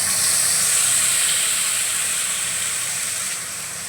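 Spice paste hitting hot frying oil in a pan, giving a loud, steady close-up sizzle and hiss that eases slightly toward the end.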